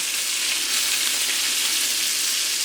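Wild Alaskan pollock and green beans frying in a hot pan, a loud, steady, even sizzle with no pauses and no voices.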